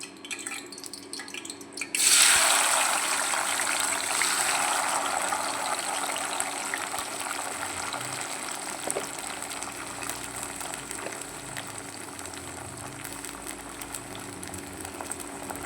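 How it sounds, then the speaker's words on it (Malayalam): Washed raisins drop into hot oil in a pan, setting off a sudden loud hiss and bubbling sizzle that settles into steady frying, close up, while pickle is being cooked. "എണ്ണ തിളക്കിയാണ് ഈ എണ്ണയിലേക്ക് നമുക്ക് കഴുകി വെച്ചിരിക്കുന്ന മുന്തിരിങ്ങ ഇട്ട് കൊടുക്കാം"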